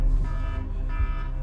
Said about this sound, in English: so an alarm went off for me